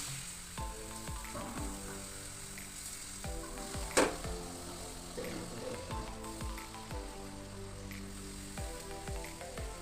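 Dosa batter spread in a circle on a hot pan, a steady close sizzle with rhythmic scraping strokes and one sharper clank partway through, no speech.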